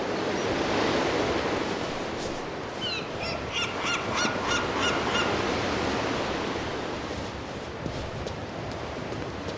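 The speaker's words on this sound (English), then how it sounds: "I have to find a way to get rid of these seagulls for a longer time." Seagulls squawking by the sea in Broken Pieces, repeated harsh cries in a cluster over steady surf and ocean wash, fairly close.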